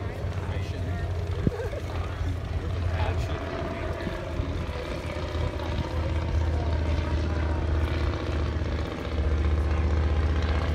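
A Curtiss Robin propeller airplane flies at an air show over the Hudson Valley, giving a steady droning engine and prop rumble that holds throughout at a moderate distance.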